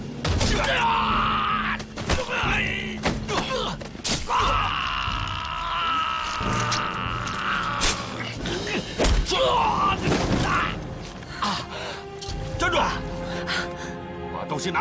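Gunshots in a Chinese spy television drama, several sharp, loud bangs scattered through a tense scene, heard under urgent, shouting dialogue and pained groaning.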